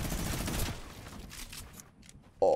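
A minigun fires in an arena mod duo match of a video game. The dense, rattling burst of rapid fire opens loud, then breaks into scattered shorter bursts.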